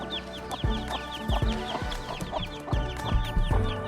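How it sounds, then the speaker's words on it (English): A hen clucks softly and repeatedly while chicks peep in high, rapid chirps nearby, a busy continuous chorus. "And we have our first baby chickens."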